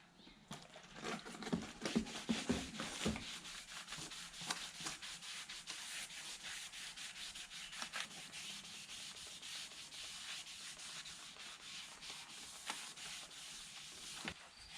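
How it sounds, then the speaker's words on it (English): A rag wiping and rubbing oil off brake parts during a 2008 Hyundai Santa Fe brake job, continuous close scrubbing and scraping strokes, faint and steady with no talk. "Just keep wiping them till you get it clean."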